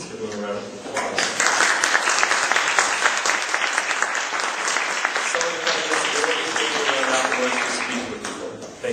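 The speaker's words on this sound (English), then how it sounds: "let's give them a round of applause" Audience applause for the candidates at a university mayoral debate in Brantford, a sustained round of clapping from a seated crowd lasting several seconds, with some talk underneath.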